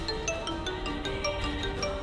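A phone rings with a repeating electronic melody, steady and fairly clear, with no voices over it.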